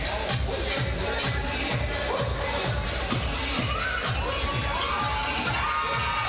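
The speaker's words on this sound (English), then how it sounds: "the TASA fans give another big cheer" Youth hockey fans at a U15 provincial game cheer and shout continuously in a busy arena, a loud crowd roar with children's voices and rhythmic banging throughout.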